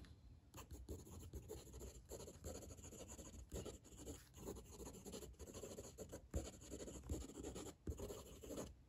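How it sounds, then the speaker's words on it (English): A Eureka Symmetry fountain pen with a PEEK body writes quickly across paper, giving a continuous close scratchy rasp with brief lifts between strokes and no voices. "Fast writing."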